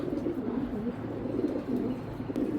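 Racing pigeons coo in a low, continuous murmur with overlapping bird calls, held close and steady throughout without speech.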